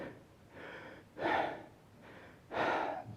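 A person imitates Kussmaul breathing, the fast deep respirations of a patient in diabetic ketoacidosis, with alternating audible inhales and exhales in a steady rhythm, close and moderately loud, and no talking.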